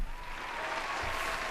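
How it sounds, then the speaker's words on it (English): Steady applause from a crowd, a dense wash of clapping that holds at an even level throughout. "here's a round of applause for Endo Shellington."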